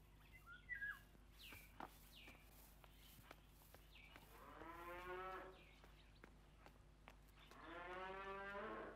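A cow moos twice, long and clear, with a short lowing call and birds chirping faintly nearby in a quiet rural setting.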